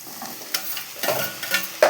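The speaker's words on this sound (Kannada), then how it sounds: "ಇವಾಗ ಟೊಮೊಟೊ ಹಾಕ್ಕೊತಾ ಇದ್ದೀನಿ" Tomatoes tumble into a pan of frying onions for a bitter gourd gojju, followed by a few distinct stirring scrapes over a light sizzle, close and fairly loud, with no voices.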